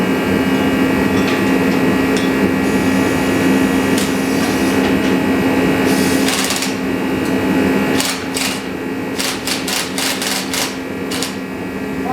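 An impact wrench works a 10mm bolt during a Cummins engine swap on a truck, giving a loud, close rattling whir that is sustained at first, then breaks into several short buzzing bursts.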